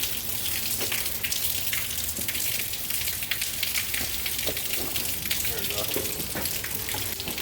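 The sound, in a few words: water flowing from sump pump discharge hose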